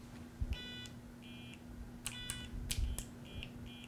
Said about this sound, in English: It gives you a beep, and you have to repeat the pattern.